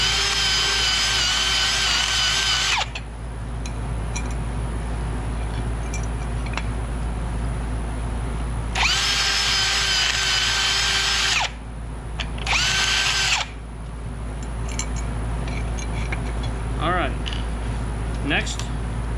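A power drill bores holes in a no-weld astromech droid ankle part. Three loud, close whining bursts run about three seconds, about three seconds, then under a second, with a quieter workshop hum between them.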